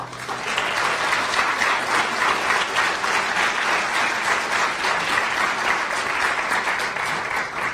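Sustained audience applause fills a town hall meeting held for Barbadians living in and around Washington DC, steady and dense from start to finish, loud and even with no speech over it.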